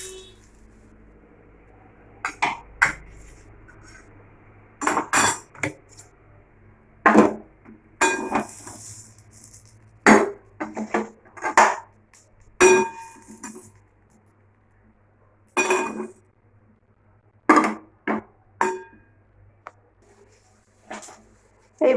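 Spoon repeatedly scraping and clanking in a pan on a gas stove while mashed bhorta is stirred and dried out over raised heat, a series of sharp metallic knocks and scrapes in irregular bursts, close and clear, faint speech at times.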